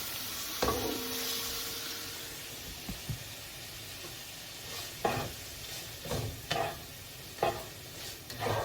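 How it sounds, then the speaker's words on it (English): Garlic butter being stirred into sizzling fried rice with chicken, shrimp and steak, a steady frying hiss broken by several sharp scraping strokes of the utensil against the pan, close and fairly quiet. "we're gonna mix the garlic butter in"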